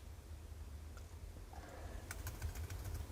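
Fingers tap a laptop keyboard in a short, faint burst of quick clicks near the end, after a few isolated key presses in a quiet room.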